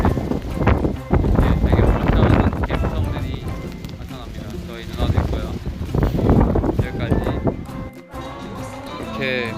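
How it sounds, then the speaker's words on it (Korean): Strong wind buffets the microphone in Old Town, San Diego, a loud continuous rumble that rises and falls in gusts while a person talks over it. "드디어 월드타운에 도착을 했는데 바람이 너무 많이 불어요"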